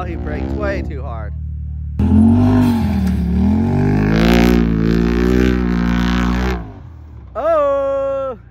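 A stock-engined four-seater Can-Am side-by-side racing on a dirt track: loud rising and falling engine revs as it brakes hard and accelerates, the engine briefly dropping away before surging back up at the end.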